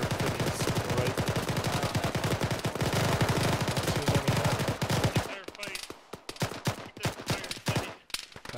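Rapid bursts of machine gun and rifle fire in the military shooter Arma, loud and dense for about five seconds, then thinning into scattered, more distant shots with some echo.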